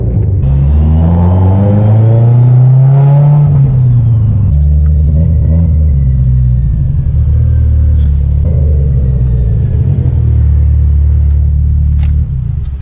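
A Mitsubishi Evo 10 running on E85 drives along with a steady, loud engine rumble, the revs rising briefly then settling into a constant droning tone with faint whine above.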